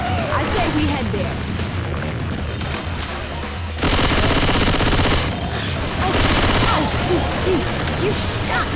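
Heavy bursts of automatic gunfire and booms in Left 4 Dead 2 Versus, rapid continuous shooting that intensifies midway with loud sustained volleys, close and dense, over game ambience.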